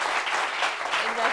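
Short burst of audience applause in a studio discussion show, a steady dense wash of clapping at moderate level with no talk over it.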